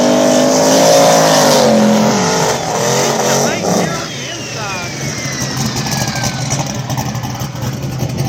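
Outlaw small tire race cars at Mooresville roar past close by, engines revving and pitch sweeping down as they pass, with loud continuous motor noise and a commentator talking over it.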